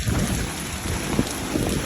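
Heavy rain pours down during a typhoon in Japan, a dense, continuous roar of rainfall with low rumbling underneath and a few louder splashes, close and loud with no talking.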